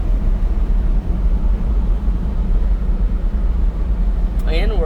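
A Daihatsu Hijet dump truck engine drones steadily and loudly from inside the cab with the window down, a continuous low rumble as the little truck is driven along, and no distinct gear change stands out.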